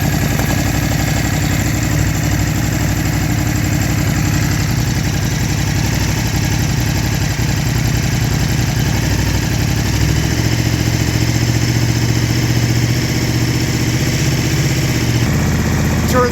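A KTM 950 Adventure motorcycle engine idles loud and close with the idle turned up slightly during carburetor syncing, its steady rumble going on without a break and shifting slightly in pitch partway through.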